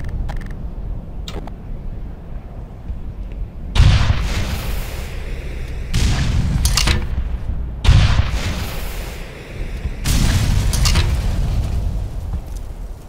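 Heavy explosions from a tank battle in the Black Mesa video game, four loud booming blasts arriving at roughly two-second gaps, each with a long rumbling tail over a quiet low hum between them.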